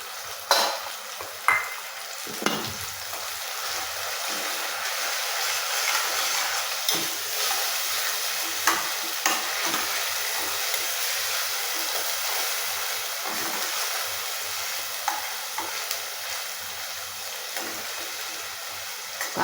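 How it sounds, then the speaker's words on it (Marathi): Onion paste ground fine in a mixer fries and sizzles steadily in a pan for a traditional village recipe, with repeated sharp scrapes and knocks of a spoon stirring it throughout; close and continuous, no talk. "कांदा थोडासा परतू द्यायचा आहे."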